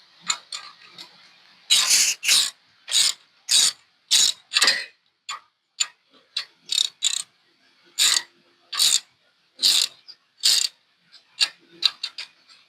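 A ratchet wrench turning during installation of a gyro rotorhead: long runs of quick, clicking strokes come in bursts with short pauses between them, fairly close and clear, with no talk over them.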